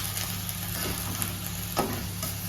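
Turmeric, salt and chili powder being stirred into sizzling paneer masala in a pan, a steady close frying hiss with soft scraping strokes of the spoon throughout.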